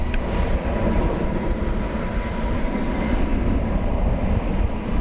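FedEx aircraft at DFW Airport at night, a steady broad roar of jet engines heard at a distance, unbroken and fairly loud throughout with no voices.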